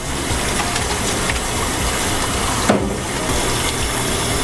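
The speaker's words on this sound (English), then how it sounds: "We're just going to put them into some water." Granny Smith apples being set into water for poaching: a steady, dense rush of running or churning water, with a small splash or knock partway through.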